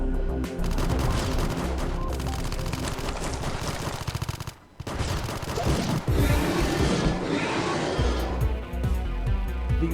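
Rapid machine gun fire from a projectile weapon in the PC game AM2R, a Metroid 2 remake, loud and dense with booming impacts, dipping briefly midway before resuming.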